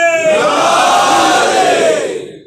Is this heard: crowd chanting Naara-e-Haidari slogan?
yes